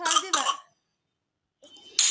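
Two quick harsh coughs from someone cooking in a kitchen, then a pause of silence and a further rough cough or throat clearing, close to the microphone.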